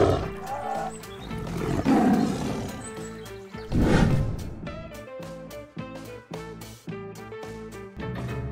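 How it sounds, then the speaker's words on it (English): A lion roars in a children's savanna-animals game, giving deep, loud, drawn-out roars with strong low rumbling at the start. They are followed by a rhythmic series of shorter, grunting huffs that grow more clipped toward the end. "This is a lion."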